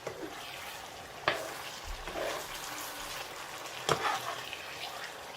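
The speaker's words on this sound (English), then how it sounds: "I will be turning on each round so that everything can mix together" A pot of Nigerian stockfish and hake stew being stirred as it cooks, giving a soft continuous sizzle and bubbling with a couple of sharp spoon knocks against the pot.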